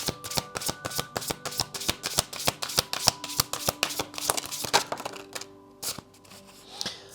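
Tarot cards being shuffled by hand, a fast run of crisp riffling flicks that slows toward the end with a few softer card slides, close and alone with no talking.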